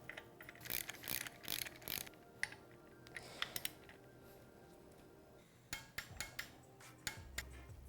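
A ratchet wrench tightens the cam chain tensioner bolt with a new sealing washer on a Polaris RZR 900/1000 engine, giving quiet bursts of rapid clicking with pauses between strokes, close up.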